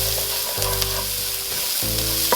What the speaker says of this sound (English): You're going to mix up the garlic and the onions.